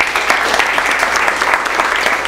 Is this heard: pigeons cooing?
no